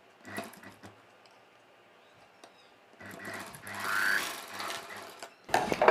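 Sewing machine stitching the shoulder seams of a long dress: a short burst of rapid stitching early on, a pause, then a longer, louder run of fast mechanical whirring near the end.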